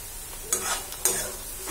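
Onions fry in a pan for an egg curry, making a soft, even sizzle, with two brief stirring scrapes standing out.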